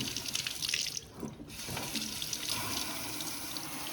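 Running tap water splashes into a sink as a plastic Hoover vacuum part is rinsed, a close, steady rush that dips briefly and then settles into a continuous flow, with no talk.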